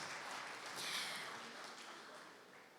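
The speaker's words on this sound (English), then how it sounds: "Another very loud round of applause for His Eminence." A crowd gives a round of applause for His Eminence at Nigeria's national flag-off of a measles-rubella and polio vaccination campaign, a soft, steady wash of distant clapping that swells slightly, then fades.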